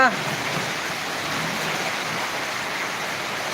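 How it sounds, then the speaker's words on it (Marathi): Steady rain falls at the Balumama temple in Belmachi, a continuous even hiss of drops with no breaks or lulls, fairly close and loud throughout. "पाऊस पडत आहे ते आपण दृश्य पाहत आहात"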